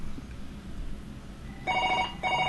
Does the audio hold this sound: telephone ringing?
yes